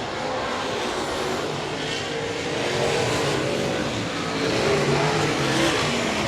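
Race cars roar around a dirt speedway at Heart O' Texas Speedway during the Southern Nationals, a steady loud engine drone that swells slightly as the cars pass, with no talk over it.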